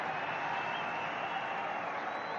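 A stadium crowd applauds before an AFC Champions League quarter-final football match between Persepolis and Al Hilal, a dense, steady wash of clapping and crowd noise with a commentator talking over it.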